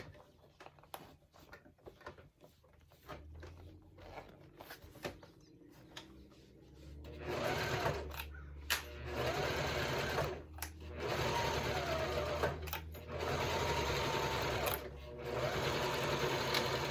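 A domestic sewing machine stitches a Harlequin vinyl pouch in whirring runs. The first few seconds are quieter and stop-start, then longer loud close bursts follow with brief pauses between them, and a voice speaks now and then.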